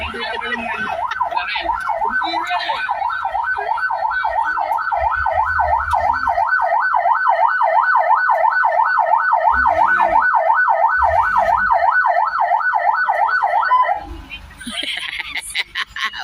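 A loud, steady wailing police siren rises and falls in rapid regular cycles for about fourteen seconds, with voices and background noise underneath, then cuts off.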